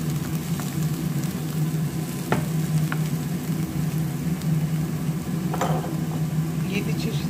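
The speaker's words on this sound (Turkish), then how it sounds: "Evet, kızarttığımız soğanları da koyduk. Bir kızarmaya aldık." Onions frying in a pan for stuffed chicken feet, a steady low sizzle with occasional soft clinks and stirring, and a person talking over it.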